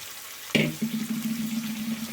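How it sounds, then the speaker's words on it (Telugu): Chopped banana flower tipped into a hot pan for a coconut curry, giving a sudden splash-like burst followed by a steady, close sizzle of frying that continues to the end, with no one talking. "ఇప్పుడు దీంట్లోకి అరటిపువ్వు వేసుకుందాం."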